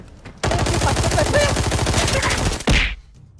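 Loud, rapid gunfire in the video game Arena Breakout rattles in a continuous burst for a couple of seconds, ending with one more sharp blast.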